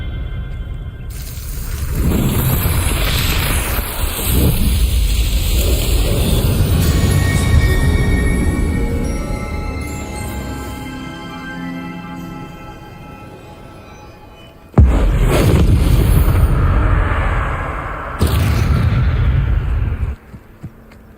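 Confringo blasting spell firing in Hogwarts Legacy, loud booming explosions with rumbling tails, a long rolling blast followed by two sharp bursts near the end, with game music and effects underneath.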